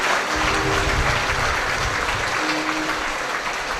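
A church congregation at a live worship service claps together in sustained, dense applause that stays loud and even from start to finish.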